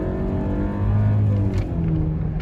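A 2024 Mercedes-Benz GLE350 4Matic accelerates hard, its engine note a steady, loud low drone rising slightly in pitch from inside the cabin, with no talking.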